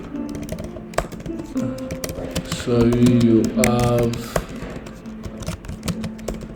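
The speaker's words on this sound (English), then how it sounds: "Sorry about my typing." Quick, uneven clicks of keys being tapped on a keyboard run under a person speaking briefly, with a louder voiced stretch in the middle.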